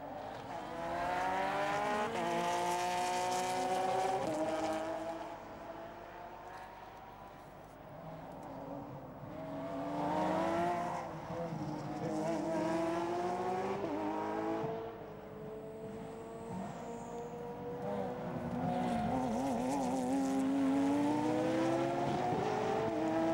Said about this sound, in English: The battle for first place is between Fred Bouvy's Ferrari and Maxime Soulet's of Porsche